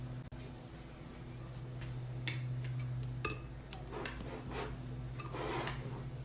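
Halal cart chicken and rice being stirred with salt and black pepper gives faint scrapes and light utensil clinks against a dish, scattered irregularly over a quiet background hum.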